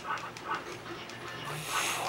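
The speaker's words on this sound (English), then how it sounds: "He's barking when I do that." Dog barking in a video game, a few short barks repeating over steady game sounds and music, with faint talk mixed in.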